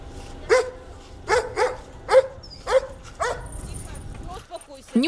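Dogs bark in a steady series of about five loud, evenly spaced barks nearby, followed by a quieter yelp, with a voice faintly in the background.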